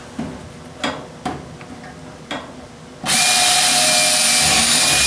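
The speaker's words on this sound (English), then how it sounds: "I got to drill the other holes" A few sharp knocks and taps, then a power drill whirs loudly and steadily at close range, drilling mounting holes while replacing a pneumatic damper actuator, until the end.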